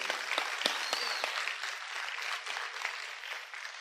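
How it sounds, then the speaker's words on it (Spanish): A church congregation claps for the Lord during a sermon. The applause is sustained and roomy, with a few sharp claps standing out at the start. "Denle un aplauso al Señor."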